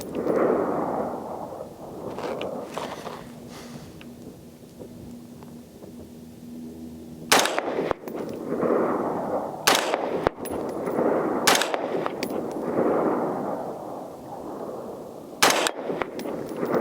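Rifle shots from a ZEV Core Combat Rifle fired as a group at a 50-yard target, five sharp loud reports spaced a second or more apart over a low outdoor rumble.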